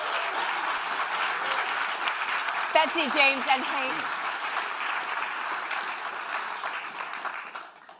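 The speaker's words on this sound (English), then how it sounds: "one more time, a big round of applause." An audience at a book debate breaks into sustained, dense clapping that fills the room, while a voice briefly calls out names over it.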